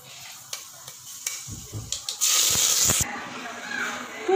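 Mustard and fenugreek seeds hit hot sesame oil in a pan for a Tamil fish curry, giving a sudden loud, hissing sizzle that lasts under a second after a few quieter clinks and taps, with a voice speaking nearby.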